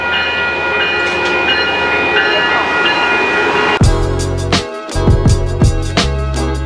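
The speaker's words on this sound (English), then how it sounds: "Train! There's a train coming." A train passes close by, a loud rumbling roar with rhythmic clattering of wheels over rail joints that starts abruptly partway through after a stretch of softer ambient noise.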